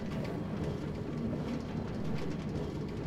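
A train runs on a crowded multiplayer video game server that suffers some lag, giving a steady, continuous rumbling roll with no break over a few seconds.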